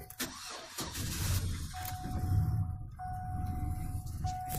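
A cold car engine cranked with an Eliminator jump starter, turning over and catching briefly before stalling, with a steady rumble overlaid by a thin electronic warning tone that cuts in and out.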